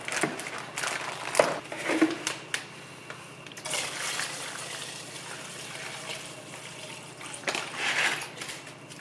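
Cleaning liquid is swished around a greasy stove drip pan inside a sealed container, giving a close, irregular sloshing and trickling with occasional louder surges over a steady low hum.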